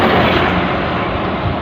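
Class 444 train in South Western corporate livery, unit 444-032 coupled with 444-014, passing at Clapham Junction, a loud, close, continuous roar of rumbling noise filling the whole moment.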